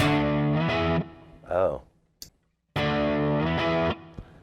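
Electric guitar through a distortion pedal model on a Pod Go gives two loud, gritty, sustained phrases separated by a short gap and a brief spoken exclamation.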